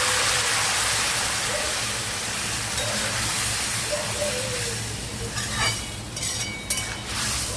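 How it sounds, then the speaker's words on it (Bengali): Hot water poured into a pan of taro and potato that were frying, giving a steady broadband hiss and sizzle with splashy bursts toward the end, close and fairly loud, no talk. "এরপরে আমি এর মধ্যে দিয়ে দেবো একটু গরম জল।"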